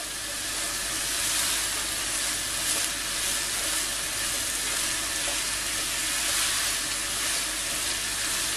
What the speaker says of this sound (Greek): 2 κολοκυθάκια. Σοτάρουμε αρκετά καλά.